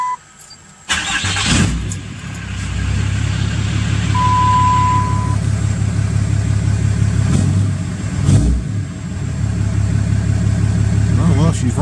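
A Cummins 6.7 diesel truck engine fitted with HPP EFI Live tuning fires up and runs steadily and loudly, a deep continuous rumble close by with the exhaust brake engaged; people talk over it.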